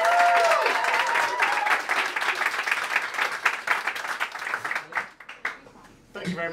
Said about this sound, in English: please give a big round of applause for Tom from McGuffey's